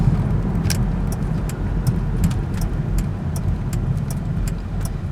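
Steady low engine hum and road rumble from inside a 1999 Ford Windstar minivan cruising around 30 mph on a test drive, with faint intermittent clicks and rattles over the drone.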